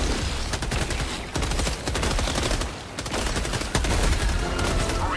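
Rapid automatic gunfire blasts at bug eggs in Helldivers 2, a loud, steady stream of shots with a few brief pauses between bursts.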